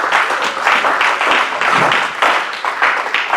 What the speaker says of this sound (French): Est-ce qu'on peut applaudir pour Jésus-Christ?